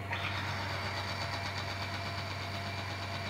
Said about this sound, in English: When you put Polytron in your engine, you'll run the engine for some few moments.